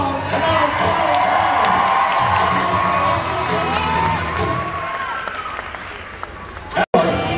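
A rodeo crowd cheers and applauds with sustained loud roaring and whoops, then tails off near the end, with an announcer's voice over it.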